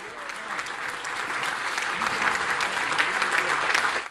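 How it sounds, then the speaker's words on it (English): A large crowd at a presidential campaign rally in Sandown, New Hampshire breaks into loud, sustained clapping and cheering that swells slightly and holds throughout, with no voices standing out. "Give a big Sandown, New Hampshire round of applause."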